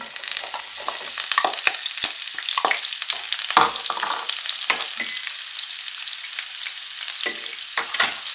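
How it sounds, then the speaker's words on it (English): Chopped onion frying in oil with mustard, fennel and cumin seeds for a vegetable curry, a continuous bright sizzle broken by sharp stirring scrapes and crackles, close and alone without voices. "The seeds that I'm using today are mustard seeds, fennel seeds and cumin seeds. And to that I'm going to add 1 chopped onion."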